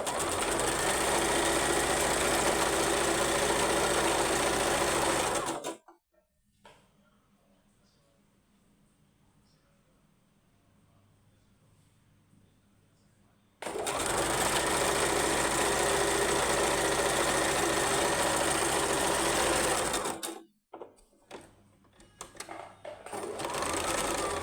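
A sewing machine stitches fabric in two long, loud, steady runs separated by a quiet pause, then ends with a few short bursts.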